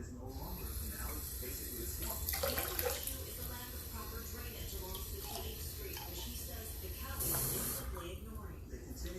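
Tap water running into a measuring container to rinse it out while preparing a quick meal in a home kitchen, a steady hiss and splash that continues throughout with brief louder surges, under a voice talking.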